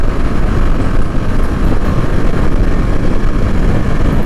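A 2022 KTM Adventure motorcycle being ridden produces a loud, continuous engine drone heavily mixed with roaring wind buffeting, steady from start to finish.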